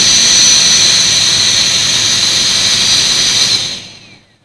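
JisuLife Life9 handheld fan running at its top level 5 setting, a loud, close, steady high-pitched whirring whine that cuts off and spins down in the last second.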